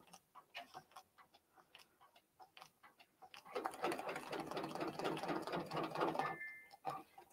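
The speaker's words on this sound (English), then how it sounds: "So the first thing it's going to stitch is my basting stitch. Let's just press lock and press go." A Brother PRS100 Persona embroidery machine stitching a basting stitch: sparse ticking clicks give way to a dense, fast mechanical whirring run of stitches for about three seconds, then stop, heard up close.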